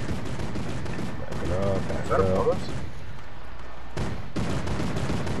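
Turret gunfire from a Fortnite squad match, a dense run of rapid, loud bursts that carries on nearly the whole time, with players talking over it.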